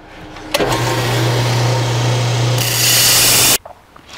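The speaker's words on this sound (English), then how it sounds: "now what we'll do is round the edges a little bit to make it look a little more professional" A power tool grinds and smooths the cut edges of metal upper shock mount brackets for a 1949 Chevrolet gasser, a loud continuous whir lasting about three seconds that grows harsher near the end before stopping abruptly.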